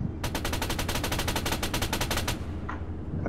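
An auto gun in ArmA III lets off a rapid, evenly spaced burst of about twenty loud shots over two seconds, then cuts off, leaving a low engine-like rumble.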